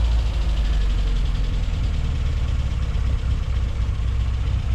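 A cold Mini Cooper engine idles with no choke, a steady low rumble with a faint uneven knock running throughout, close and continuous with no voices.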